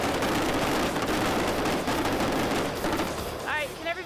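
Squib dust hits fired into the ground on a film set to simulate bullet ricochets, heard as a dense, loud rapid burst of sharp cracks and crackle that thins out near the end.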